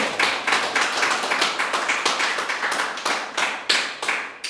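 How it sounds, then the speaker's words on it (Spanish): Congregation clapping in a church service, a near, steady series of sharp rhythmic claps at a regular beat, alone with no talking. "Y ahora aplaudan al Dios vivo"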